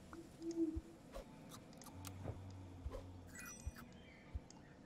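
A short, low owl hoot plays when an owl is bought in Super Auto Pets, a single soft call amid quiet clicks and faint game sounds.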